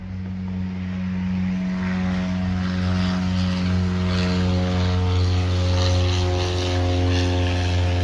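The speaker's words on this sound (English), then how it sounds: "I live in an airport, so there's planes flying." A propeller aircraft drones loudly overhead near an airport, a strong steady hum with layered engine tones that swells slightly and holds throughout, no voices.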